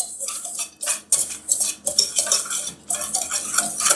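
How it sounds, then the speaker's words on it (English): Whisk stirring kosher salt into dry ingredients in a bowl, a run of quick, close scraping and tapping strokes with short pauses between bursts. "we're going to mix those together with a whisk"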